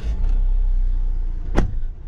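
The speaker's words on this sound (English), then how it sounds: "Let's start up the car." A 2020 Tata Harrier automatic with push-button start cranks and catches, a short sharp burst of starter noise settling into a low steady idle, close and loud.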